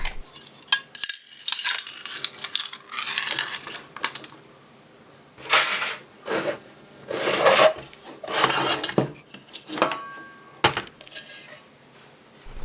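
Two small screws are unscrewed by hand from an Amiga 500 computer casing and the casing is slid out, giving scattered faint scraping, rubbing and light metallic clicks close up with no talking.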